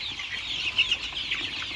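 Local chickens cluck softly and continuously in a backyard brood, a steady low-level chatter of hens and chicks with a few slightly louder calls, no voices present.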